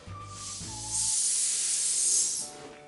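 A party balloon being deflated to a 9-inch size for a balloon arch lets out a close, steady hiss of escaping air that swells and holds for a couple of seconds before fading, with no voices.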